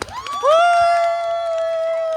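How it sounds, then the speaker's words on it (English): Crowd at a live storytelling show cheering and whooping, led by a single long sustained voice cry that holds steady over the noise, loud and close. "give yourselves a round of applause for surviving 2 tales!"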